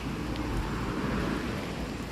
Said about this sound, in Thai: บรรยากาศช่วงฝน ตก ครับ